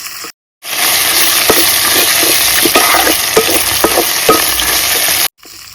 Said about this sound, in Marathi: तर आता आला लसूण पेस्ट ना ह्या कांद्यात मी बरी भाजून घेतो,